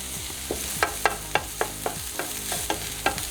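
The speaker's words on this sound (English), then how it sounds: "My onions are getting brown. I'm gonna add my garlic, my fresh garlic." Onions and fresh garlic fry in a pan while a utensil stirs them, making about a dozen sharp scraping clacks over a steady soft sizzle, close and moderately loud.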